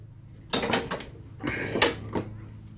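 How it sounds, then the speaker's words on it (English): Clattering metallic bangs and scrapes as a Brute or Husqvarna self-propelled lawn mower is flipped over onto its side, two close bursts of knocking thuds with a faint low hum underneath. "So I'm gonna flip this mower over"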